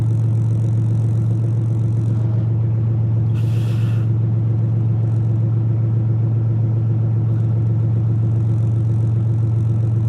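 A truck engine idles at a truck stop, producing a continuous, loud, low rumbling hum that holds steady throughout with little variation.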